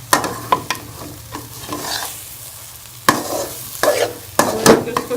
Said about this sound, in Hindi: इसको स्लो आंच पे थोड़ी देर के लिए पकाएंगे ताकि ये घी छोड़ दें